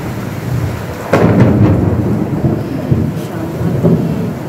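Heavy rain pours in a dense, steady hiss while a loud, close thunderclap breaks about a second in and rolls on as a deep rumble under the downpour.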